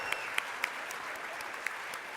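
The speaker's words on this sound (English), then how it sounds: "give all of them a huge round of applause as well" Guests at a charity gala auction for the Minnesota Colorectal Cancer Research Foundation applaud, with fairly quiet, distant crowd clapping in a large room and a few sharper nearby claps standing out.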